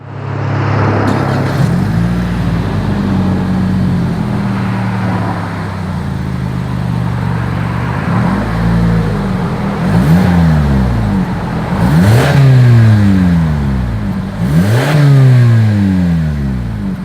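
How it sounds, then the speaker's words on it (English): A 2020 Toyota Camry engine with dual exhaust revs repeatedly, sharp bursts climbing and falling over a steady idle rumble, close and loud. "As always, here is that exhaust clip."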